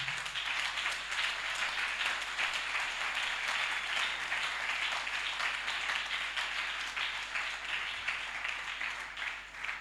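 A church congregation claps and cheers in sustained, dense applause that fills the room at an even level for about ten seconds.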